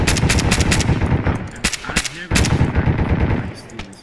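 Automatic weapon fire from a firefight in the Arma 3 video game, with loud repeated bursts and sharp shots crowding the first and last parts, a short lull in between, and a voice briefly heard under the noise.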